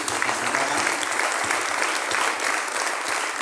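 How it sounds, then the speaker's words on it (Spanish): Steady, full applause from an audience at a literary gathering honoring writers in Villavicencio, dense clapping continuing evenly for several seconds with no break. "Pido el aplauso de verdad para esos escritores que están acá"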